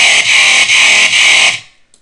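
A roaring, distorted synth chainsaw bass made with the Massive synthesizer for death step, sounding as a loud, buzzy sustained tone with rhythmic pulsing swells that cuts off abruptly after about a second and a half.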